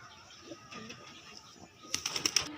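Pigeons in a home loft at dusk give soft, faint coos, followed near the end by a short burst of flapping wings and scuffling.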